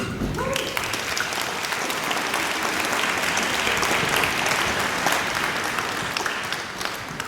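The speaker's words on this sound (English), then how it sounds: "If we can give a round of applause to our principal of CNEC, Dr. Gilly" An audience at a school district gathering gives the school principal a full round of applause, a thick, steady wash of many hands clapping close by for about seven seconds.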